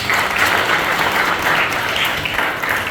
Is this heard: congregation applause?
yes